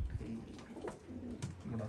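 Pigeons kept by a fancier, including a black-feathered female, coo softly in low repeated murmurs close by, with voices talking over them now and then.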